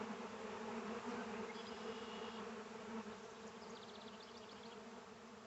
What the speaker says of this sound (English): there's like a bunch of little bees on these branches